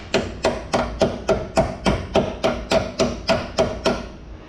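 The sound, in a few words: hammering with pliers during brake caliper replacement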